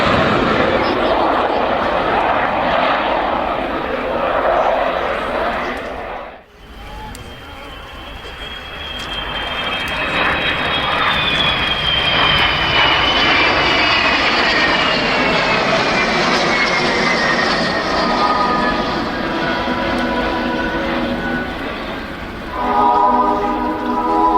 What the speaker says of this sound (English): 3 V fighters from de Havilland, Vixen and 2 Vampires, an FB-52 and a T-55